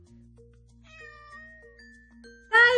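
A cat meows once, loud and close, at the end of a children's story sound effect, following a few soft, sustained chime-like tones.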